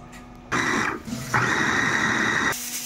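A grinder mills vegetables in two loud whirring bursts, the first briefly dipping before the second runs on for about a second, with a quieter hum before and after.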